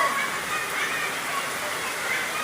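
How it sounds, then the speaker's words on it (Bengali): Heavy monsoon downpour near a mosque, a dense, unbroken hiss of rain hammering down loudly and evenly from start to finish. "ক্যাটস অ্যান্ড ডগ, মুষলধারে বৃষ্টি"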